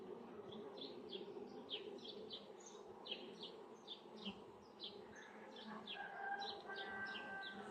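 Honey bees buzz around the frames of an open hive, a soft, continuous drone with individual bees zipping past close by. Faint bird chirps sound in the background.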